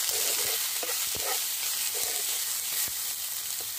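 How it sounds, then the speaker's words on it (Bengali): Gathi kochu taro sautés with ground spices in a pan: a constant sizzle under distinct, uneven stirring scrapes and knocks from a spoon. "এটা বেশ অনেকটা কষে নিয়েছি।"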